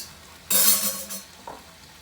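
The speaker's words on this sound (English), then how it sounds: "I'm going to let it fry on here." Beef frying in a pan for a pot roast, a loud burst of sizzling that starts suddenly and then fades, with a faint clink of a utensil near the end.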